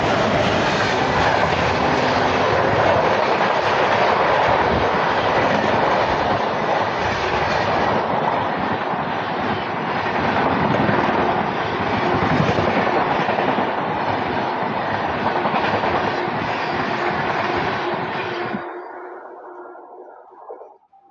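A Humsafar Express train passing close on an overtake, heard as a loud, sustained roar of wheels and wagons that fades out abruptly near the end, with no one speaking.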